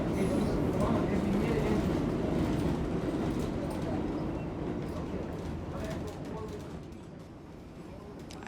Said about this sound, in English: I chose to give a tour of a little bit of the 7 train